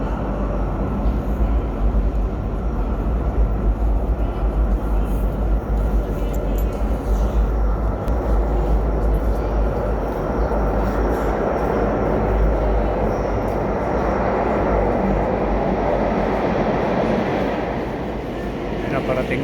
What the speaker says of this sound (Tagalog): Ayan na guys yung train.